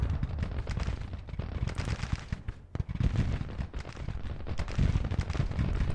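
Rifle fire crackles continuously in a Grand Tactician: The Civil War battle near Fredericksburg, a dense, loud rattle of overlapping musket-style shots with a heavy low rumble underneath and no clear pauses.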